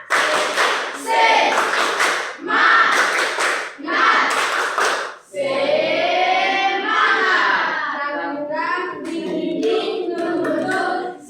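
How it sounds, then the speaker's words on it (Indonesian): A school class claps a rhythmic spirit clap in four loud bursts of many hands, then the pupils break into a group chant with clapping mixed in. "Tepuk semangat."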